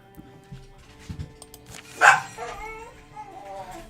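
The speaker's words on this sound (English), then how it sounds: "Oh my god, dogs." Dogs bark in the game Wildermyth, a few yips and barks over quiet game sounds, with one louder bark standing out in the middle.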